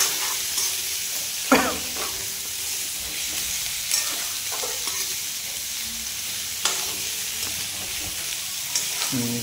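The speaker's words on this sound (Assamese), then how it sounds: "ধুনীয়াকৈ ফ্ৰাই কৰি লৈছোঁ" A paste of ginger, garlic and chili fries in a pan for pork curry, a constant loud hissing sizzle with occasional stirring scrapes and thumps at a few-second intervals, no voices.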